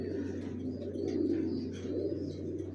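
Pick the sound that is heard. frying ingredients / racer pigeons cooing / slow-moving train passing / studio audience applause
racer pigeons cooing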